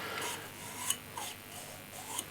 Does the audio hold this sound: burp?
no